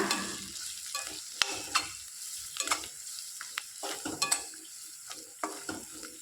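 Onions with turmeric and chili powder frying in a pan as a spoon stirs them, giving a soft continuous sizzle broken by repeated scraping strokes and clicks against the pan.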